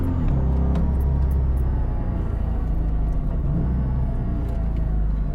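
A loud, steady Porsche 718 Cayman flat-six engine drone with a deep rumble and slight wavering pitch, close by and continuous throughout.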